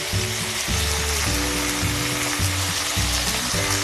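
Chopped tomatoes sauté in hot oil in a kadai, giving a loud, steady close-up sizzle with a rhythmic mechanical hum pulsing underneath throughout.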